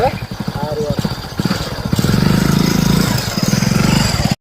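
A motorcycle engine runs close by with a steady, throaty putter that grows louder partway through, while voices talk over it throughout.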